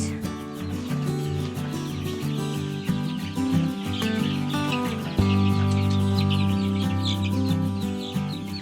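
Chicks in a barn brooder, a dense chorus of close peeping and cheeping that runs continuously over a steady background hum, with no talk.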